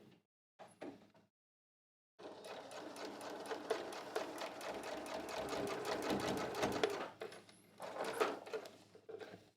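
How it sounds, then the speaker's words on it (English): A sewing machine stitches a pant seam in short bursts, first a couple of brief runs, then a long steady rapid-fire stretch of needle clatter, a pause, and another short run. "I'm going to overlap by a stitch or two, but I'm not back stitching."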